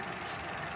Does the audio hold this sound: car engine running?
yes